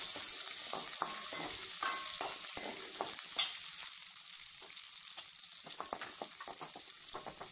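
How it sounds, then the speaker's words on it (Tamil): Small peeled shallots sautéing in oil for a kuzhambu, a soft continuous sizzle with light scrape-and-tap strokes of a spoon stirring the pan, near and without speech. "எண்ணெயிலேயே நல்லா வதக்கி விட்டுறலாம்."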